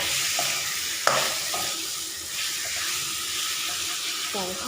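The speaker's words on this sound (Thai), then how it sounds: "เราต้องพัดพริกแกงมันน้ำหอมแล้วก็เอาปลาดุกของที่เราลวกไว้เอาลงมาใส่เลยนะ" Catfish stir-fried with curry paste in a wok, steady loud sizzle and hiss with spatula scraping and stirring clatters throughout.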